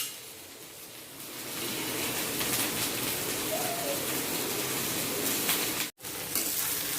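Shredded cabbage frying in a pan for a vegetable roll, a steady close sizzle that swells after the first moment and hisses on evenly, with a brief cut near the end.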